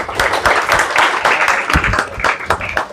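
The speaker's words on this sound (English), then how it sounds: "So we'll do one clap for all of us." An audience clapping together at a breathing session, a dense run of sharp claps spread across the whole stretch at steady loudness.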